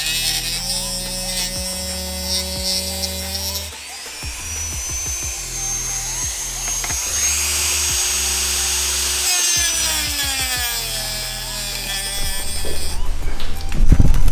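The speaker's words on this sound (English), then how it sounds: "So let me go ahead and Dremel that out now." A Dremel rotary tool cuts holes into a carbon fiber front lip for a BMW M4, whining steadily with pitch shifts as it bites and eases, close and loud, with short breaks between passes.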